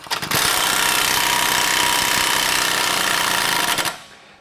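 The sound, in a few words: removing Jeep Wrangler lower shock bolt with 18mm socket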